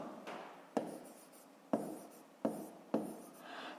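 A pen writes a fraction on paper during a fifth-grade maths exercise, giving close, quiet scratchy strokes with four or five sharp taps as the tip touches down, heard without talk.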